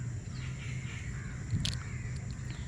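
A bird being hand-fed with crumbled food gives a raspy crow-like caw midway through, fairly faint against a constant outdoor hum and background noise.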